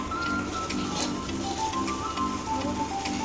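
Boiled potatoes fry in a pan with salt, turmeric and pepper, giving a steady close crackling sizzle with light ticking bits throughout and no talking.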